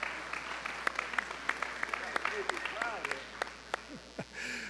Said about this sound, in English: let's hear some applause